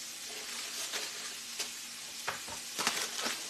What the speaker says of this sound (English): But you want to hear a sizzle, and that skillet's hot.